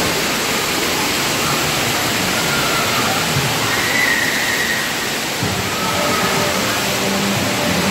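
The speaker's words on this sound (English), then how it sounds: "Indoor water park" Water rushes and splashes steadily at an indoor water park, a dense, constant wash of noise with no clear voices.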